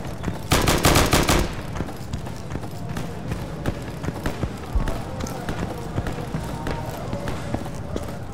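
Rapid bursts of automatic gunfire in the video game Insurgency, a loud dense volley near the start followed by scattered sporadic shots and game ambience, with some talk present.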